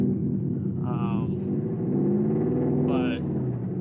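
Wagon engine running on fairly low boost, a loud steady low rumble close by with a couple of brief rising revs, and a person talking over it.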